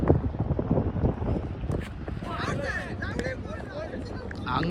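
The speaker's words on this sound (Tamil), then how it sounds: "நல்ல காற்று அடிக்குதுங்க, நல்லா காற்று அடிக்குது, மண் காற்று வேறு நல்லா அடிக்குது" Gusty dusty wind sweeping across an outdoor cricket ground during a local match, rumbling against the microphone while someone talks throughout and other voices sound faintly in the background.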